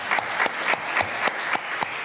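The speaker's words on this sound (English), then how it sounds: "You deserve a clap, I have to say." A conference audience gives a round of applause, many hands clapping in a dense, even patter with regular louder accents, moderately loud in a hall and without speech.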